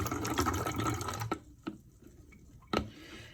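Water is poured into a bottle for a density column experiment, a dense liquid fill lasting just over a second and then stopping, followed by a few faint clicks and knocks in the quiet after it.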